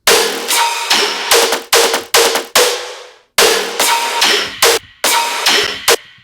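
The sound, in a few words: synth group with reverb throws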